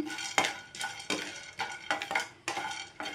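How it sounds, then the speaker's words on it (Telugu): Edible gum (gond) roasting in a pan, stirred with repeated rhythmic scraping and clattering strokes of a utensil against the metal, close and clear, with a light sizzle between strokes. "గోందని ఈ విధంగా వేయించుకోవాలండి"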